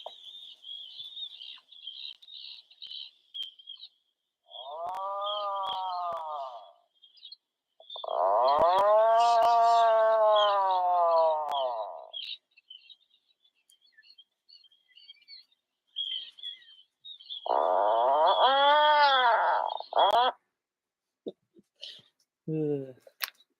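A recording of freshwater drum (sheephead) fish calls played back during an ice fishing live chat: three separate low grunting, croaking bursts of a few seconds each, over a steady high hiss and faint chatter.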